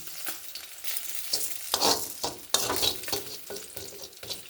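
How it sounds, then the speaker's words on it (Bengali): Whole spices—coriander, cumin, radhuni and a small cardamom—dry-frying in a pan, with a steady crackling sizzle and repeated scraping stirs, close and alone, no talk. "এই মাছের ঝোলে একটা ভাজা মশলা দেব, তো সেইটা একটু ভেজে নিচ্ছি"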